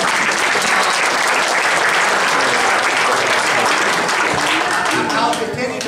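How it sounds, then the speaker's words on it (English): A town hall audience applauds, a thick, continuous wash of clapping from many hands that holds loud for several seconds before starting to thin. "Would you all give yourselves a round of applause?"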